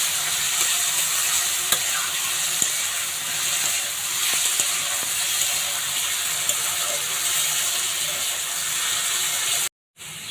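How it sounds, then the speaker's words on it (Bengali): Potatoes with salt and turmeric fry lightly in a pan, giving a steady, close sizzle with faint scraping stirs throughout and a brief cut to silence near the end. "এখন আলুটা একটু হালকা ভেজে নিচ্ছি।"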